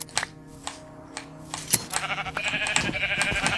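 Sheep in Minecraft bleat several times, a few brief cries over soft clicking and game sounds, with no voices.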